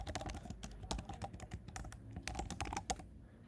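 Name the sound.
typing code on a computer keyboard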